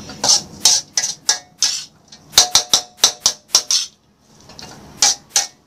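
A metal wok clanks and scrapes as pad thai with dried shrimp is stir-fried, sharp spatula strikes in quick uneven runs with short pauses, close and loud, no talk.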